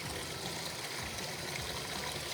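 Water flows steadily from a Delta Roman tub spout and hand shower hose in a bathroom, a constant close hiss and splash of running water with no pauses and no talk.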